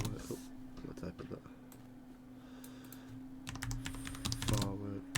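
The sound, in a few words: typing on a computer keyboard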